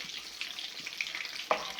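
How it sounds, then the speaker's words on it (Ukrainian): Chicken cutlets made from ground chicken frying in a pan, giving a steady, soft hiss and crackle with a few small pops, close by and with no talking. "Так, котлеточки наші смажаться."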